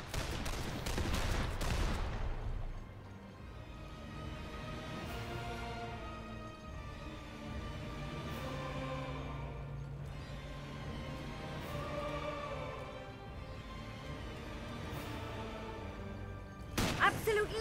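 Dense gunfire bursts from The Lamplighters League video game open the stretch and return sharply at the end, with sustained musical tones and softer battle ambience filling the middle.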